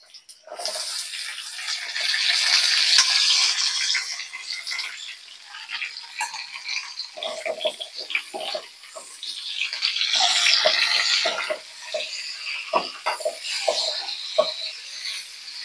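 Water is poured into a pot of string beans, making a loud, rushing splash that swells and fades in two main pours, with gurgling and dripping between them.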